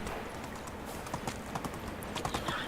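Donkey hooves in the medieval life-sim game Medieval Dynasty: a run of light, irregular clip-clop steps over a soft background hiss, moderately close.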